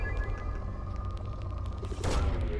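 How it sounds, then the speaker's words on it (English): Probe launch in the Mass Effect 2 video game, a steady electronic hum and drone with a brighter whooshing burst rising near the end. "Launching probe."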